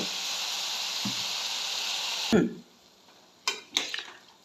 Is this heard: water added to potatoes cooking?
yes